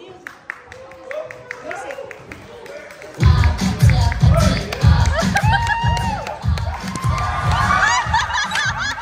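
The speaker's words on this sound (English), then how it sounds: "let's give them a round of applause" Crowd at a gay beauty pageant, laughter and light chatter giving way to loud clapping and cheering that holds steady after a few seconds, with voices mixed in.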